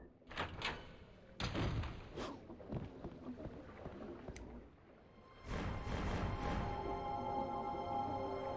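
A heavy door in Devil May Cry opens with a few solid thumps and a grinding slide, followed by a louder rumbling stretch near the end. The sound is fairly close and stands alone, with no talk over it.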